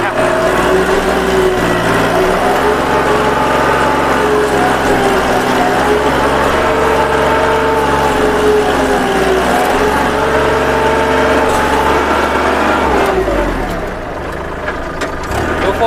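A three-cylinder diesel engine on a four-wheel-drive 2011 Kubota L3608 tractor runs steadily and loudly nearby, a constant mechanical rumble that eases slightly near the end.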